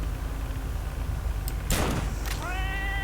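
In the S.T.A.L.K.E.R. video game, a sharp burst of gunfire is followed by a short, clear cat meow near the end, over steady background game ambience.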